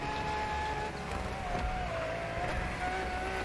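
Lamborghini Countach engine droning steadily in a racing video game on a highway section, with a sustained tonal whine and rumble running throughout at constant loudness.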